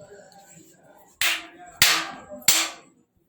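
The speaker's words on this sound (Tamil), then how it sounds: "3 டைம் சொடக்கு போட்டு பார்க்கலாம்." Three sharp finger snaps ring out in quick succession after a stretch of faint room murmur, close and crisp, the last two spaced evenly.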